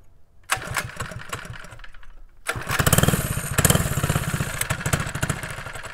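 A small mini bike engine starts in cold weather, sputters briefly, then settles into a loud, close, rapid chugging idle as it warms up, with no talking.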